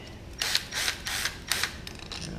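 A ratchet wrench removes 12 mm bolts from a Toyota 4AGE engine during a rebuild, a run of quick clicking bursts in a steady rhythm, close and fairly clear, with no talking.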